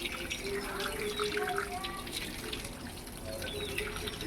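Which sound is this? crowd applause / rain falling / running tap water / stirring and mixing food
running tap water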